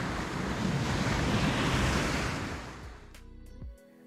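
Foamy sea waves surge and break on a shore during sea bass fishing, a loud, continuous rushing wash that eases and drops away near the end, with wind buffeting the microphone.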